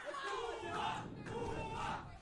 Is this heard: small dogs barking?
no